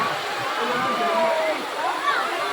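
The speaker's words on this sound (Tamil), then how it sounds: "இதாங்க புலியருவி, டைகர் ஃபால்ஸ்னு சொல்லுவாங்க" Steady rushing roar of Puliyaruvi (Tiger Falls) waterfall, dense and continuous, with faint voices mixed in beneath the torrent.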